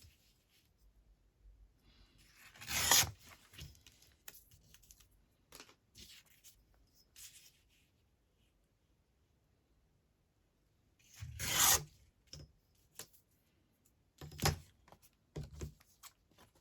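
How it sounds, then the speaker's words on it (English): A paper border torn off by hand for a journal page: a few short, close ripping and rustling bursts separated by quiet pauses. "I'll just tear off some of the border to make sure."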